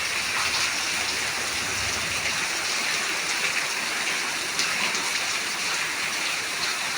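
Heavy rain pours down in Tiruppur as a dense, constant hiss of falling water and splashing on surfaces, steady and close throughout with no one talking.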